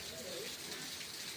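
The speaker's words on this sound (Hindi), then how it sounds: "बहुत ही तेज बारिश हो रहा है, चारों तरफ दिखाई भी नहीं दे रहा है" Very heavy rain pouring down, a dense steady hiss of drops throughout, with a faint voice briefly audible underneath early on.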